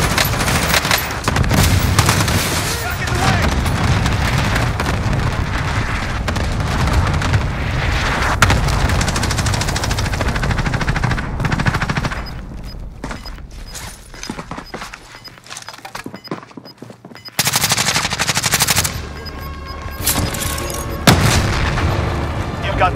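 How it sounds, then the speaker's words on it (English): Cluster strike explosions rumble in Warzone, a long barrage of heavy booms and crackling gunfire with radio voices over it, then a brief lull before more blasts hit close by. "Good copy. Cluster strike away."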